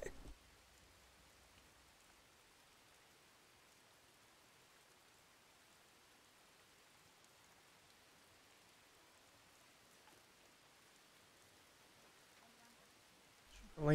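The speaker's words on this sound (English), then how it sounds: "It's a rainy old spring day." Steady, faint rain falls continuously on a spring day in the video game Dawn of Man, a soft even hiss with a brief louder burst at the very end.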